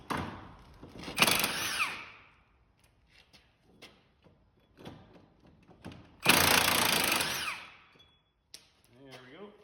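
A power tool whirs in two short bursts as wheel bearing bolts are removed from a Sion car, with quiet clinks and handling noises in the pauses between.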